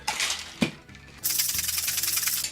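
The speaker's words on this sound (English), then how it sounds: "He's at least going to shake it up for you." A bar cocktail shaker holding a Mai Tai made with pineapple juice is shaken hard, giving a dense, bright rattle of ice that starts after a few short clinks and keeps going steadily to the end.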